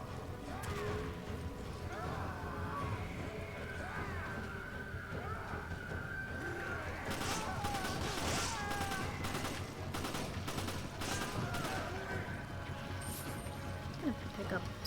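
Grenade thrown and bursting in Resident Evil 5, amid a dense, continuous wash of game combat noise with rapid gunfire-like bursts clustering in the second half.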